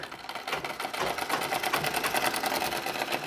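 Close, steady whirring of a sewing machine stitching a Nauvari saree, its fast needle rhythm pulsing evenly and building slightly in loudness, with no talking.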